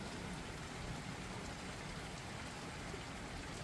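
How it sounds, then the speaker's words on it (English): Steady rain pours down as a dense, even wash of drops hitting surfaces, continuous and close, with no voices. "I love the rain."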